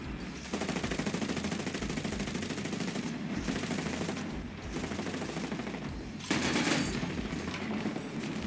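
Rapid automatic fire from a tank in War Thunder, with a sustained loud, dense barrage of repeated shots and a sharper burst near the end.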